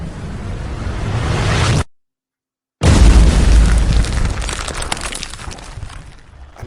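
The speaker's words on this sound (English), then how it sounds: "as the explosion washes over you" A loud, sustained explosion effect with a deep rumbling roar, cut by a sudden second of silence, then a second massive blast that slowly decays into crackling debris, played in a tabletop role-playing game session.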